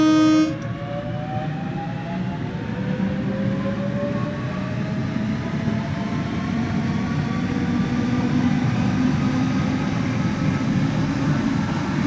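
Southeastern Class 465/9 electric train in a video game cab ride from Rainham to Gravesend, a steady loud rolling drone with rising motor whine, a brief horn-like tone at the very start, no talking.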